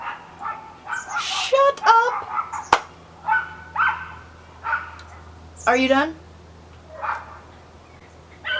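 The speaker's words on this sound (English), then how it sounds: "just ignore that dog barking" A dog barks in short bursts at a distance, the yaps scattered between stretches of conversation as people talk over it.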